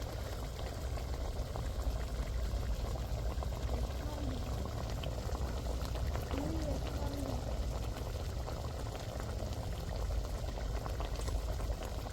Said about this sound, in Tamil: இப்போ பாருங்கள் எண்ணெயெலாம் நல்லா கொதிச்சு நல்லா மூளை வெந்துருச்சு